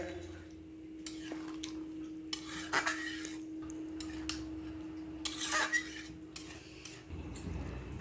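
Vegetarian ridge gourd curry is stirred in a pan, with scattered scraping and clinking of a utensil against metal, quiet to moderate in loudness and irregular in rhythm over a faint steady hum.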